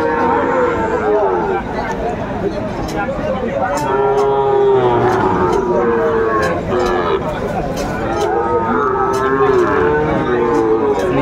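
A Sahiwal bull calf at a crowded cattle market moos loudly in long drawn-out calls, repeating several times amid people talking and bargaining.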